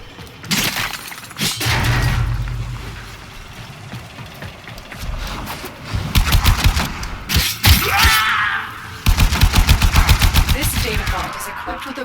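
Gunfire in a Warframe-style sci-fi shooter game: bursts of rapid automatic shots and sharp impacts, some shattering and thuds, loud and close in several volleys across the clip, with faint talk in places.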